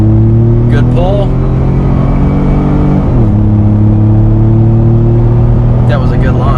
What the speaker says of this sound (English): That was a good launch.